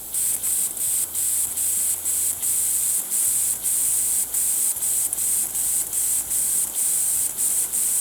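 A steady high hiss of an airbrush spraying pulses in short regular bursts as compressor pressure cuts out, with a low mechanical hum underneath.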